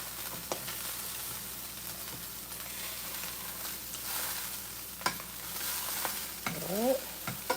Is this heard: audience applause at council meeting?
no